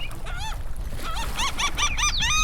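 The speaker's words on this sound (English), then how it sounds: "Bird's not too happy with me." An agitated bird on a Florida beach at night gives a rapid series of harsh, squawking calls, sparse at first and then quickening into a close, insistent run over a low background rumble.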